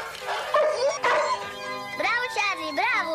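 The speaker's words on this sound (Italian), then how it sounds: "Questo è il cane." Several short, high-pitched yips and barks from a small dog sound close by, interleaved with a person speaking Italian, from a 1986 Mattel talking toy.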